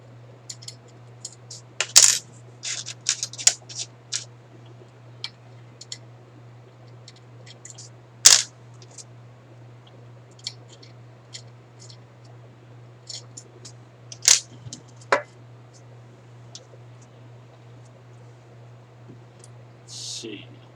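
Metal wrench sockets being rummaged through, with scattered sharp clinks and rattles in irregular bursts over a low steady hum, fairly close and otherwise quiet.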